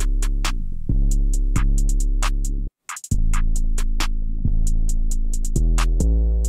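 A full hip-hop beat with 808 drums, a bell, strings and a lead synth, the sustained layers pulsing steadily with punchy low kicks and one brief dropout near the middle before the groove returns at full volume.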